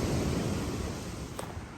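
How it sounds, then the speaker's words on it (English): Waves breaking at a river mouth on a coastal trek, a steady close roar of surf and wind noise with one brief faint high blip, no voices. "wait for a little lull in the waves"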